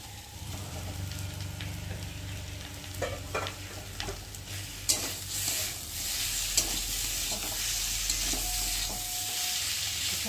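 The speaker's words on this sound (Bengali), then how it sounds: "তাহলে একটু ভালো করে কষিয়ে নিই।" Potatoes cooking with spices and tomato in a pan sizzle steadily while a spatula stirs and scrapes in irregular bursts, a few sharper knocks standing out; close and alone, with no talk.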